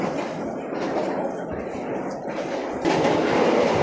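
Steady rumble and clatter of the Argo Dwipangga executive train running, heard from inside the carriages near the dining car, a continuous loud roar with faint wheel noise and no clear talk.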